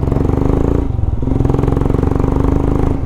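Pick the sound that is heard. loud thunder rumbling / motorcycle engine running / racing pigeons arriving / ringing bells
motorcycle engine running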